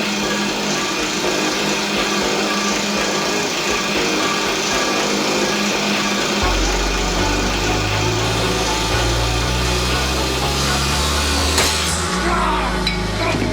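A vehicle engine runs noisily before warming up, a continuous loud drone that thickens into a heavier low rumble midway through, with no voices heard.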